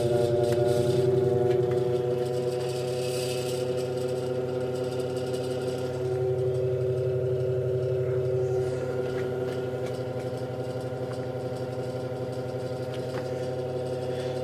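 Running on medium speed, an antique GE Vortalex electric fan gives a steady, close motor drone with strong harmonic tones and a light metallic clatter throughout.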